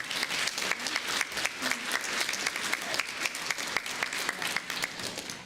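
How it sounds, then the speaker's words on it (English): An audience gives a quick round of applause for dairy farmer board members at a dairy competition event, with loud, steady, dense clapping that continues evenly throughout. "Could we give them a quick round of applause?"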